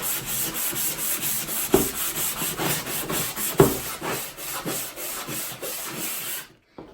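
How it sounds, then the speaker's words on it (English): Rhythmic scratchy rubbing of sandpaper back and forth over wood, close up, with a few sharper knocks, then it stops abruptly at the end. "and sand away that roughness"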